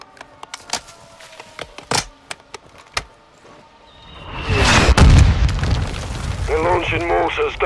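Mortar explosions in Call of Duty: Modern Warfare II, sharp scattered impacts and pops early on, then a heavy rumbling blast that swells and lingers, with chatter and battlefield noise underneath.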